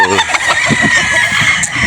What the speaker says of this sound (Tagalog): pinipili nila sa kung gaano kagwapo yung mga manok ni Boss Martins Clean.